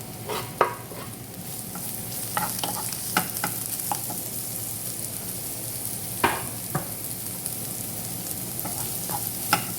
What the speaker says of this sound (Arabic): بحط شوية زيت زيتون، قليل، بشوح فيها واحد بصل،